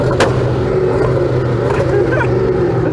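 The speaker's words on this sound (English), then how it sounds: "Go on, rev it up." Hennessy Venom hypercar engine revving loud and close, a sustained deep roar with a sharp burst near the start, continuous throughout.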